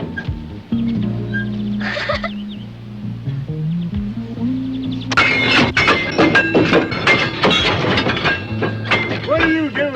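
Heavy rail carts rumble and clatter along a track with rattling, clanking impacts, loud and close, after a quieter stretch with some voices.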